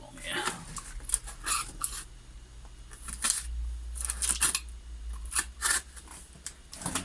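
Scissors cut through packaging straps while a Snapmaker 2.0 A350 is unboxed, giving a series of sharp, close snips and plastic crinkles with irregular pauses between cuts.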